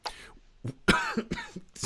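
A person clears their throat a few times in short, rough bursts, close and fairly loud, with brief pauses between.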